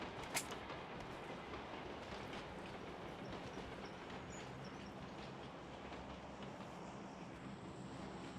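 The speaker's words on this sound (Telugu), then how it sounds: "ఓకే ట్రైన్ వస్తుంది" A train rolls past in the BGMI battle royale game, a steady broadband rumble and rattle with clickety-clack running the whole time, plus a brief sharp transient near the start and no talk.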